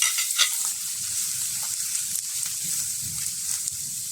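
Chopped onions fry in coconut oil in a pan over medium flame, giving a soft, steady sizzle with light stirring scrapes throughout, close and without talk.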